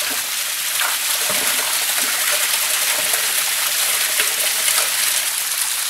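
Water from a spring pours continuously into a well, a steady, dense rushing and splashing that holds at an even level throughout, with no voices.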